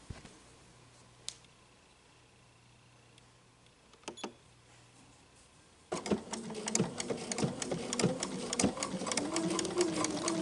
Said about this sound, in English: I do have my 10D foot on and I'm going to start stitching